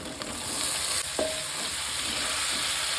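Drumstick (moringa) pieces frying in a pan with curry leaves and turmeric for a rasam, a loud continuous sizzle close by, broken once by a brief metallic clink of a utensil; no talking.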